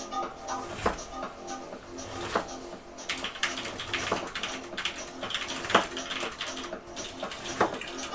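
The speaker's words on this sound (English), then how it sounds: "right now I'm just dicing down a couple more onions" A knife dices onions on a cutting board in a busy kitchen, steady rapid chopping taps running throughout at moderate loudness with clattering dishes and running water behind.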